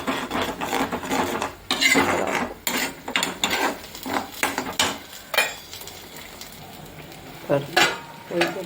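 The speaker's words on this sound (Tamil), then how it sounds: "கொஞ்சம் கொதிக்கிறது" Spicy tomato chutney simmers gently in a pan over low flame, a soft steady bubbling and sizzle broken by the scrape of a spoon stirring through it.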